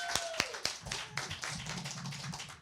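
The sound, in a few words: audience applause for performer Princess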